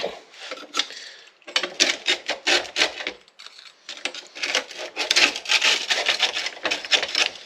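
A metal spatula scrapes dried lemon slices off dehydrator trays in quick, rough bursts of rasping strokes, close up and irregular, with a brief pause between rounds of scraping.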